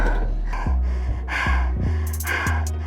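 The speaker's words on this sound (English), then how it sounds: "I'm breathing like crazy." A man breathes hard and heavily after fighting a large fish, with loud, rhythmic gasping inhales and exhales repeating about every second, close to the listener.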